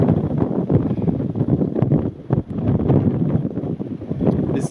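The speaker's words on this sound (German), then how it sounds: "Ist ziemlich kühler Wind." Cool wind gusts roar across the microphone high on a mountain road, a loud, fluctuating buffeting rush with brief lulls and no voices.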